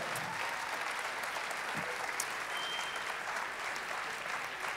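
Audience applause at a graduation ceremony, a dense, steady wash of many hands clapping continuously throughout, moderately loud from the room with no break.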